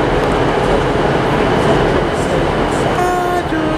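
Train departing Liverpool Lime Street station into the tunnels, a loud continuous rumble and roar of the moving train with a faint tone emerging near the end.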